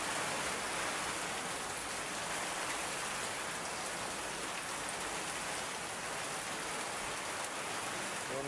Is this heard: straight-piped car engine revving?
no